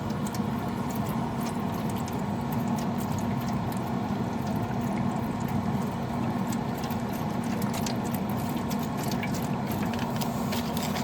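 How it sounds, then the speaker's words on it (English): Beef broth pours steadily over a brisket sitting in foil, a continuous liquid splashing and trickling sound that stays even and close throughout, with no talking. "Now just to put some beef broth in this."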